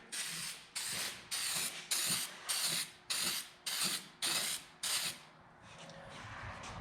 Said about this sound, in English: So let's spray this thing.